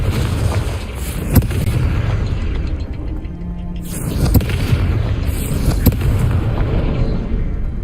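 Confringo fire spell in the Hogwarts Legacy video game, several sharp booming blasts and pops spaced a few seconds apart over a rumbling, noisy background.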